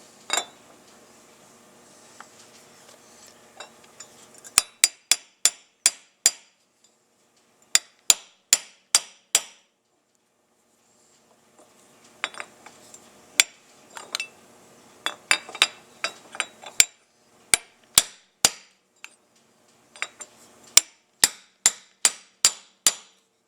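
Sharp metallic hammer taps come in quick bursts separated by pauses, with faint clinking and rattling between the strikes.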